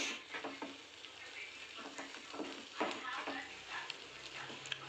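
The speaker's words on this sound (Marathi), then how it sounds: "आता आपण रवा याच्यामध्ये टाकून घेऊया. रवा लगेच सारखं आपल्याला मिक्स करून घ्यायचं आहे." Semolina stirred into boiling water for dry potato golden balls, heard as wet scraping and thick stirring strokes with occasional clinks, close by under a faint background hum.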